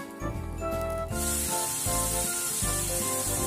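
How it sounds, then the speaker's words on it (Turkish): Diced potatoes fry in about half a tea glass of vegetable oil in a pan for a sausage-and-potato breakfast, a steady hiss and crackle that swells loud after a second, heard alone over background music. "Patatesleri kızartalım."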